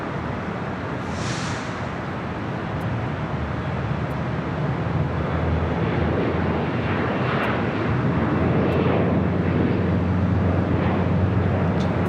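United Airlines Flight 39 departs LAX bound for Tokyo. Its broad, steady jet rumble swells slightly toward the end, with a brief hiss early on and no talking.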